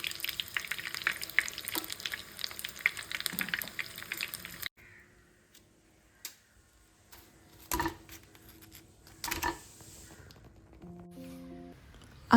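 Iftar snacks deep-frying in hot oil until golden on both sides crackle densely for several seconds, then the bubbling cuts off abruptly, leaving near silence broken by a few sharp clinks.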